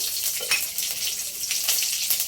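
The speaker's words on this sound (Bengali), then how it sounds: "তরকা দেওয়ার জন্য তেলটা ভালো করে গরম করে নিয়েছি গ্যাসটা বন্ধ করে দিয়েছি কালো সর্ষে কাঁচা লঙ্কা একটা" Black mustard seeds and green chilli crackle in hot oil as a tempering for instant white dhokla, a close sizzling hiss broken by quick sharp pops and spatters.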